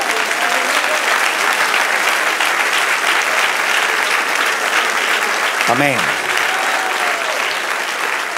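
A church congregation breaks into sustained applause during a sermon, a dense wash of clapping with a brief spoken exclamation partway through.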